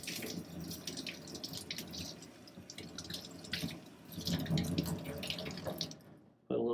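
Tap water runs and splashes over a copper plate held in a sink, a soft, uneven rinsing patter close by and fairly quiet, stopping abruptly at the end.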